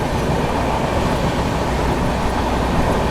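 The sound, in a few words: Howrah Amritsar Mail train approaching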